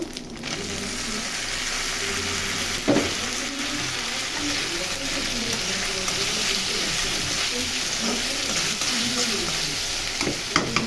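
Ginger and garlic fry in a pan for aloo dum, and tomato is added in. A loud, continuous sizzle runs throughout, with stirring scrapes and a sharper hiss and clatter when the tomato goes in.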